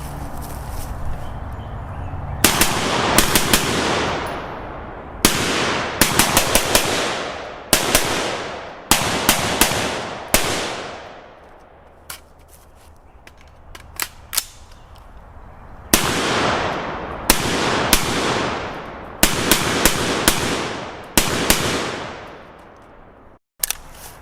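A PSA-built AR-15 rifle fitted with a SureFire Warden fires through two magazines outdoors, producing loud sharp shots in quick strings and single reports separated by pauses.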